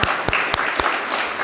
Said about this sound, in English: We'll clap for Mark anyway.